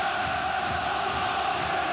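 Beşiktaş football supporters in the stands keep up a dense, steady crowd roar of cheering and chanting, unbroken and fairly distant, with no clear individual voices standing out.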